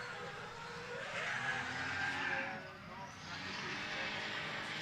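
Race car circuit noise at Slovakia Ring, a loud, steady engine drone rising and falling as the car works hard through corners, with commentary talking over it.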